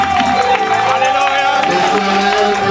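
A wedding congregation cheers and acclaims the Lord in a loud, continuous crowd roar of voices and shouts, filling the room without a break.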